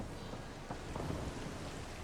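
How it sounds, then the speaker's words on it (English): Steady rain from Mass Effect Andromeda falls as a soft, even hiss, with faint low rumbles like distant thunder rolling underneath. "It's raining? How is it raining?"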